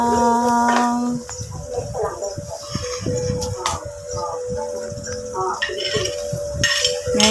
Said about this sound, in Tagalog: Sige, halukay lang. Halo-halo lang.